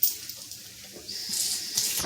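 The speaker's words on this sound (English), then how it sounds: "So you wash your hand, try to get off whatever off of your hand." Hands are washed under running tap water in a kitchen while caramel dumplings and coconut rundown are being prepared, a soft steady splash and trickle close by with faint brighter spurts of water.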